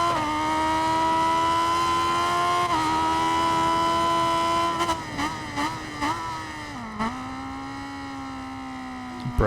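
A Ducati motorcycle being ridden, a steady loud engine drone that dips as the rider brakes, followed by several short revs and shifts in pitch before it settles lower.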